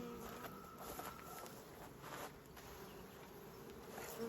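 Honey bees swarm around a crowded beehive, many clustered behind the hive, producing a steady, dense buzzing drone that holds throughout without pause.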